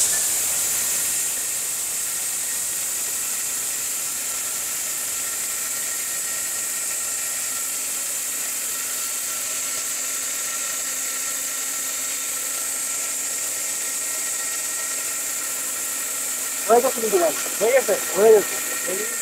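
A 1200-watt blender with a 100% copper motor rated at 21,000 RPM grinds gram flour in a steady, loud, high-pitched whine that runs unbroken, with a voice speaking briefly near the end.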